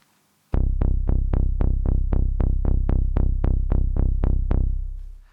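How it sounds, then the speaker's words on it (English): A Hypersynth Xenophone synth bass pumps out an even line of sixteen punchy plucked notes that decay quickly, played alone, loud and close, for an arrangement. "That's the hypersynth xenophone that I used for the bass."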